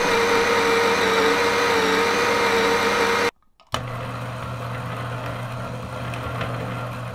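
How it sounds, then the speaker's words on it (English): Baratza Sette conical burr coffee grinder running loud and close with a steady high-pitched whine, cutting out briefly, then a second grinder in the Sette line starting with a lower, steady drone. "These are definitely not grinders where you can carry on your conversation while they're grinding"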